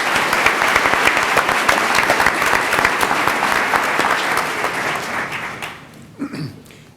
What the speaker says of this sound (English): One final round of applause for all of our Reflections winners.